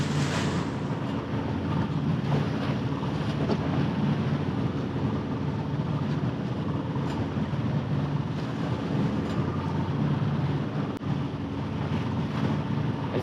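Big river-mouth waves where the current meets the wind, heard from a small vintage sailboat as a constant wash of water and wind rush, fairly steady and moderately loud, with no talking.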